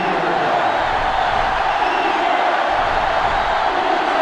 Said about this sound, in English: They're one of the loudest crowds in the country, and they are on their feet